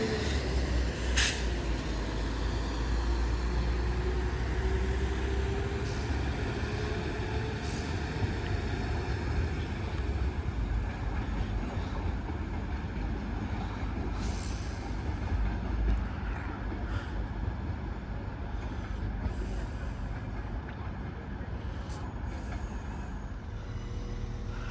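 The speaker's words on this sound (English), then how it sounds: "On the 1028 Transport for Wales service to Llandudno from Crewe. Off she goes." A Transport for Wales service bound for Llandudno from Crewe pulls out of Chester station, a steady broad rumble and whine holding evenly throughout at moderate distance, with no talk over it.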